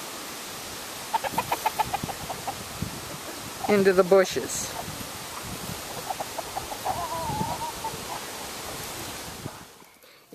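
A mother hen clucks softly to her chicks outdoors, with short repeated clucks and a louder burst of calls midway, while a person talks over much of it.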